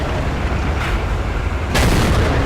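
IS-4 tank cannon firing in a World of Tanks style game, a single heavy boom cutting sharply through constant loud engine and battlefield rumble, near and forceful.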